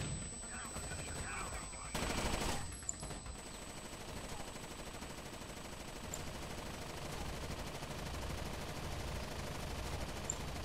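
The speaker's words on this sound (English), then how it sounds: "Someone's shooting." A short burst of rapid gunfire rattles through a Rainbow Six Vegas 2 campaign scene around the two-second mark, then gives way to quiet ambience with occasional faint ticks and a steady high tone.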